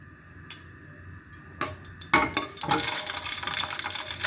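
A spoonful of olive oil poured into a cooking pan, starting with a few soft clicks and then turning into a rising, close gush of liquid and sizzle that continues to the end.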